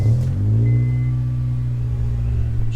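A bobber motorcycle engine turns over and runs rough, a steady low mechanical rumble that is loud and close throughout, then sags without catching properly.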